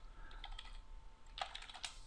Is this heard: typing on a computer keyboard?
yes